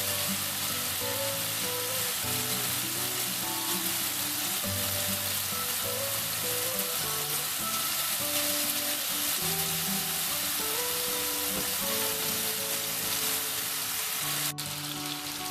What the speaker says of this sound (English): Okay, so we're frying now the tikka.